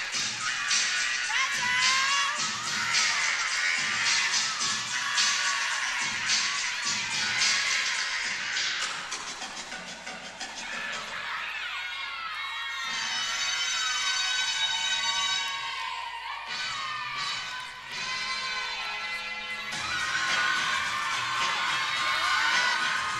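A crowd at a college gymnastics meet cheers and whoops loudly with high-pitched shouts, swelling and fading in waves over floor-routine music.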